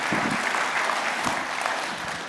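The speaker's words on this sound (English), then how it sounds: "would you just give him a round of applause?" A church audience applauds to welcome a guest speaker to the stage: dense, sustained clapping from many hands, fairly close and loud, with no talk over it.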